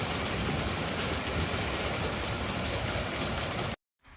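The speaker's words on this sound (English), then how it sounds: "The wind is kind of picking up too." Wind blowing outdoors, a steady, loud, broadband rush buffeting close to the microphone for nearly four seconds before it cuts off abruptly.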